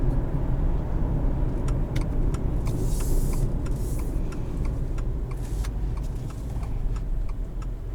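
A 2022 Subaru Outback Wilderness heard from inside while driving, with a loud, steady road and engine rumble and a few faint clicks and rattles over it.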